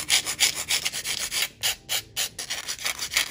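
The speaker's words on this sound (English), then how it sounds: "I'm going to take a hand file and I'm just going to shape the nails a little." A hand file rasps across polygel nail tips, shaping and straightening the edges in quick back-and-forth strokes, close and clear with a steady rhythmic scratch and no talking.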